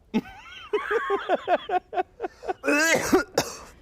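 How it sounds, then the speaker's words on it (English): A string of rapid, harsh coughs comes in bursts, close and loud, with a brief pause before a final rough fit. "Are you really coughing that much from the second hand?"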